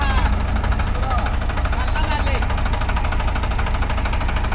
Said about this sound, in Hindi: देखो भाई ट्रैक्टर स्टार्ट कर रहे हैं, कर लिया है फार्म ट्रैक 60।